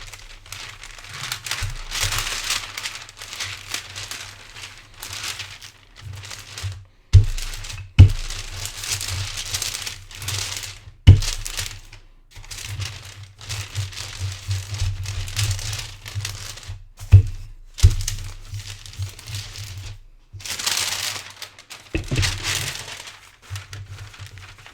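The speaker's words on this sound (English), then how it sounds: "I'm going to roll the dough through the baking paper so it won't stick to a rolling pin." Shortbread dough rolled out between sheets of baking paper, giving steady crinkling and crackling paper noise with a few sharper thumps and pauses, close and fairly loud, with no talking.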